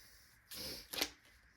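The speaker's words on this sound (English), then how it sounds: "I'm going to just shuffle again" Tarot cards being shuffled close up in two quick riffling bursts, the second sharper, against quiet surroundings.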